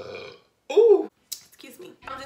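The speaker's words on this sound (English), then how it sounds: "I had a burp." A person lets out a single short, close burp in a quiet room, with brief speech before and after it.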